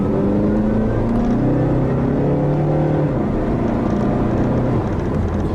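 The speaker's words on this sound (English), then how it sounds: "The four-cylinder makes decent noises." A 2015 Mazda CX-5 four-cylinder engine revs steadily under load, its harmonic drone rising and falling, loud and close with a slightly buzzy edge.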